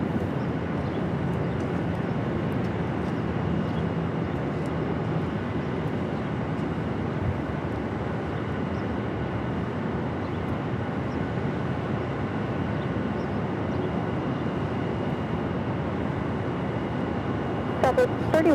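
Southwest Airlines jet taking off from runway 25 right, a steady broadband engine roar holding loud and even throughout, with faint voices in the background.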